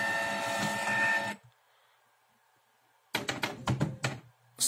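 A Canon MP250 inkjet printer runs its mechanism with a loud, whirring buzz, drops to near silence, then resumes with a quick series of sharp rattling clicks and clunks at close range.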